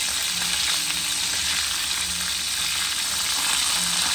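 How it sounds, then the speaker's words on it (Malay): Battered fish fries in hot oil with a loud, continuous sizzle and crackle, close up and steady throughout. "Goreng tepung"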